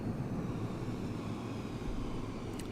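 Simulated aircraft engine in the Prepar3D v2 flight simulator game, flying over Tokyo, with the throttle cut: a steady, fairly loud low drone with a broad rumbling noise bed, holding without a clear change through the short stretch.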